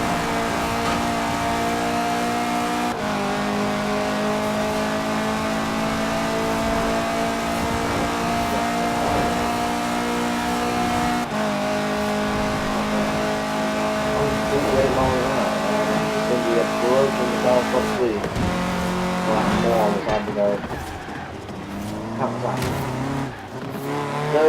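A KTM X-Bow GT4 race car in the video game Forza Horizon 4 accelerates hard, its engine rising in pitch through several gear changes and growing louder toward the end, with someone talking over it.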